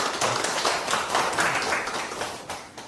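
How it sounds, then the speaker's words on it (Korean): An audience at a Korean Himalaya expedition seminar applauds as a speaker on the Miar Peak expedition is welcomed, producing dense, steady clapping from many hands that fades slightly toward the end. "박수로 맞아주시면 감사하겠습니다."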